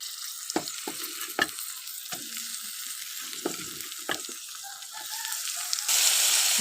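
Ivy gourd pieces frying in a pan with spices already browned, sizzling steadily while a spoon or spatula scrapes and stirs in repeated strokes, close and clear with no voices.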